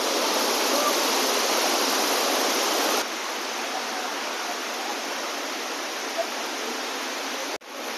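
Tirathgarh Waterfall in Chhattisgarh, India, roars as a loud, steady wash of falling water, continuous and close throughout with no voices.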